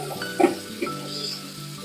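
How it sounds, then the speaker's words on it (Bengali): Marinated mutton dropped into a pan of golden-browned onions sizzles and is stirred, a steady frying hiss with a couple of brief louder stirring scrapes near the start, close and moderately loud. "ম্যারিনেট করা মটনটা পুরো করে ফেলে দিয়ে কষাতে থাকবো।"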